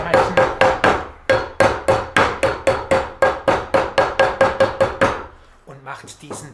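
A small hammer taps sharply on a metal tin lid about a dozen times in a quick, steady rhythm, close and loud, followed by a brief softer shuffle.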